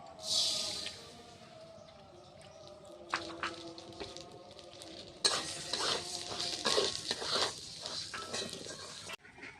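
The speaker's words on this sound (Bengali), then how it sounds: "এবার আমি মুগ ডালটা ভেজে নেব মুগ ডালটা দিয়ে দিচ্ছি কড়ার মধ্যে" Mung dal sizzles and crackles in hot oil in a kadai while a spoon scrapes and stirs around the pan, steady and close.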